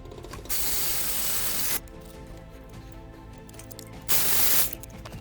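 A ratchet clicks steadily while fitting the sump onto a Porsche engine being rebuilt, close and fairly loud, with two short bursts of hissing spray breaking in.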